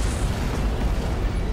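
An antimatter charge goes off aboard a ship in Halo: Combat Evolved, a sustained, loud rumbling blast with a deep low-end roar that holds steady throughout.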